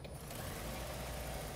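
A 2009 Nissan Altima Hybrid engine starts and settles into a quiet, fast, even clatter much like a sewing machine, steady and close with no voices.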